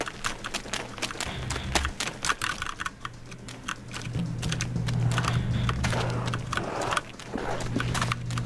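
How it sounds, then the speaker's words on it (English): Rapid, clattery clicking of an E-Element Z-88 mechanical keyboard, dense bursts of keystrokes over a steady low hum, close and continuous. "you guys can hear what the keyboard sounds like"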